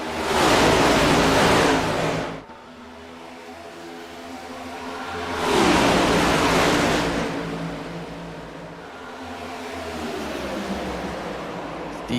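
Race cars at Daytona, likely a sim racing broadcast, roar past in two loud accelerating bursts with a quieter engine drone between them, no voices heard.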